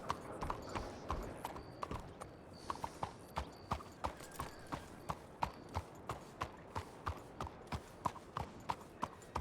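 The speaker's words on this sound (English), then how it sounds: "I'm hearing a horse." Steady rhythmic clip-clop of horse hooves walking at an even pace in the video game Red Dead Redemption 2, close and distinct, with faint background ambience and no talking.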